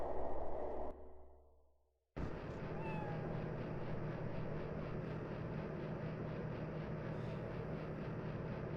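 A cat meows faintly in the video game Echo Night: Beyond, thin brief cries over a low, steady droning ambience that cuts out briefly before resuming.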